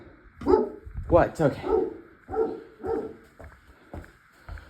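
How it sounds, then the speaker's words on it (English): Several dogs bark in short, sharp bursts, some close and loud with yips mixed in, while a person speaks briefly between the barks and a steady beeping tone of a smoke alarm runs underneath. "Dogs are barking for me."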